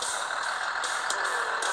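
An old school bus drives along in the video game Earn to Die, its engine a loud, steady, close drone with a brief flickering rhythm in the upper range.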